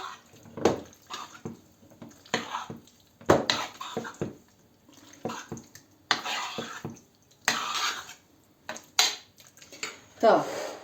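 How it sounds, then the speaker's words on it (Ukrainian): Raw liver seasoned with salt and pepper is stirred in a dish, giving repeated wet squelches and scraping clinks of a utensil against the bowl in irregular bursts, with a voice talking in between. "І перемішаємо гарно цю печінку."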